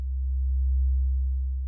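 A steady sine wave from a modular synthesizer oscillator hums as a pure, unchanging low tone, loud and alone for the whole stretch with no other sounds.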